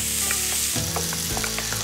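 Sausage mixture for Chicago-style pizza sizzling and frying in a pan while being stirred, a close, steady crackle with scraping stirring strokes and no voices.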